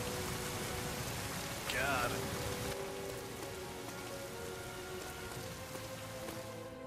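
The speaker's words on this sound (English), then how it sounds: "Rain's just getting heavier." Heavy rain pours steadily in Dynasty Warriors 9, a dense continuous hiss throughout, with a brief exclamation from a voice partway through.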